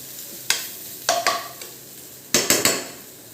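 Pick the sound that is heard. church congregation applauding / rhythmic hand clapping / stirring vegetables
stirring vegetables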